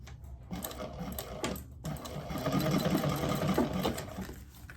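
A sewing machine runs steadily while stitching down a pocket, a close, continuous whirring and rapid needle chatter with a couple of brief pauses early on, no talk over it.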